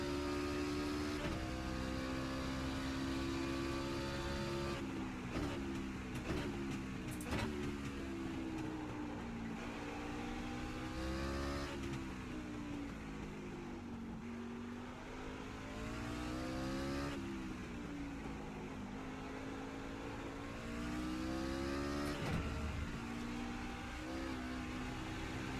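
A V8 stock car engine from a racing video game set at Mid-Ohio drones loudly and continuously, repeatedly revving up through gears and dropping back between corners, with no talking.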